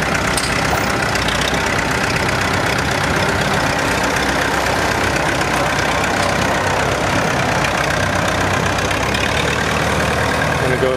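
A 1973 tractor, a 475 rated at 62 horsepower with suitcase weights on the front and brand new tires, idles steadily and loudly up close for the whole stretch, with no voices.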